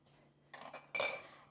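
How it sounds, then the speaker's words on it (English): A spoon clinks and scrapes against a pot while a sauce is given a quick stir, two or three short metallic knocks, the last the loudest, fairly close and fading quickly into quiet. "Just give this a quick stir."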